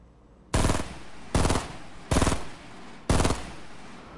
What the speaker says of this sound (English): I don't think my shots are even going that far